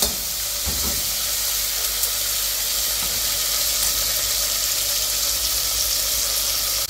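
Pieces of oxtail for a Jamaican dish sear in a hot pan, giving a loud, steady, close sizzle and hiss that runs without a break, with an occasional faint tap.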